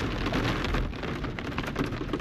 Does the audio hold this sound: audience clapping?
no